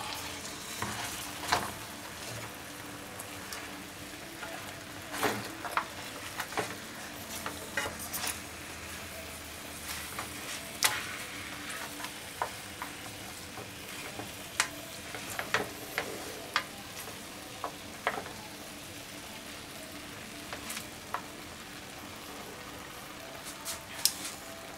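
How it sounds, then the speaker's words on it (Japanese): Pork teriyaki slices fry in a frying pan, turned to cook the other side, with a soft, continuous sizzle and pops, plus scattered ticks and crackles of spattering oil spread through a long, quiet stretch. "反対側も焼いておきましょう。"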